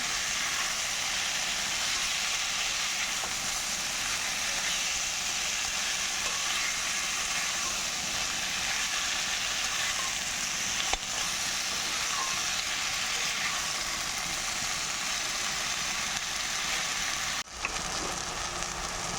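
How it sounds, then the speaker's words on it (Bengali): Taro stolons fry with fish in a pan, giving a long, dense, steady sizzle like rain, with occasional soft scrapes of stirring and a brief clatter near the end, no talk. "এবার ভালো করে মিশিয়ে নেব"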